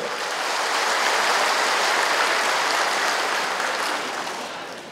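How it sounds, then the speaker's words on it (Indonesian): Applause from neighbourhood (RW) heads at a Bandung city regional development programme launch, a thick steady roar of many hands that swells and then fades slightly toward the end. "Coba tepuk tangan ketua RW saja"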